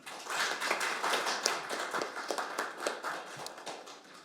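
Scattered clapping from a seminar audience at a veterans' policy event, irregular and fairly quiet, heard alone as individual claps blend into light applause.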